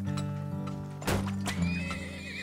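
Horses in the game Turmoil neigh loudly with a sharp whinny, near and clear over a steady low background tone, with faint hoof clops.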